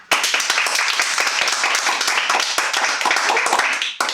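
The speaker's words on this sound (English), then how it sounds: "All right, clap." A Toastmasters meeting audience claps together in dense, rapid applause, many hands close by, ending with a sharp final clap.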